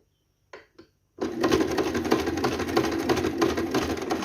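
A sewing machine stitches a Kazakh skullcap (takiya): two short clicks from the machine, then a fast, steady mechanical whirr running loud and close for about three seconds, with no talk.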